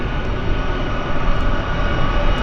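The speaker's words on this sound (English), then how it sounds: "C-17 has arrived at CFB Comox." Boeing C-17 military transport aircraft at CFB Comox, its engines producing a loud, steady broadband roar that swells slightly and holds without a break.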